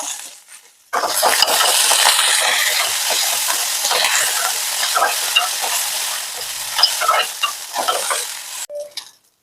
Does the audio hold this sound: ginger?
yes